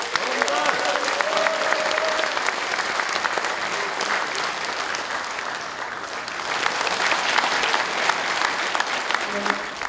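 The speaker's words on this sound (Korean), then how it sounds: "자, 큰 박수 한번 부탁드립니다." Sustained audience applause fills a Democratic Party appointment ceremony hall, dense clapping that dips slightly midway before swelling again, with a brief voice heard under it early on.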